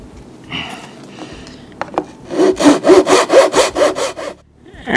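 N scale model lumber is cut with a small hand saw: a few tentative strokes, then a quick run of about nine rhythmic back-and-forth rasps, close and crisp.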